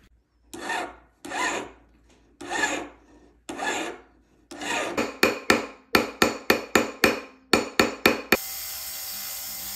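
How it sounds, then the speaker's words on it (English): A metal ring is worked to burnish and resize it. A few longer scraping strokes give way to a quick run of about ten sharp, close hammer taps, then a steady hiss. "we're going to be hammering it"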